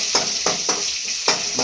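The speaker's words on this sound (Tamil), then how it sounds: "நல்லா கிண்டி விடுங்க." Ingredients for mint and tender coconut chutney are stirred and fried in a pan: a steady low sizzle with about five rhythmic scraping strokes of a spoon against the pan, close and clear, with no talking.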